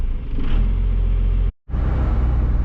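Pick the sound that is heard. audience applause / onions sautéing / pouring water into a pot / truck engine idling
truck engine idling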